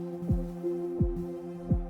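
Synthesized kick drums from a Phase Plant patch, three deep pitch-dropping thumps spaced evenly over a sustained droning tonal pad, with no voices.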